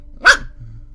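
A single sharp dog bark from a video game rings out once, short and clear, followed by a faint low growl-like tail.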